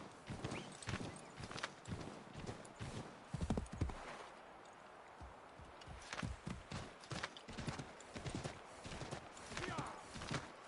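Hooves pound in a fast, steady clip-clop rhythm, close and prominent, as a horse gallops at speed in Assassin's Creed 3, with no voices over it.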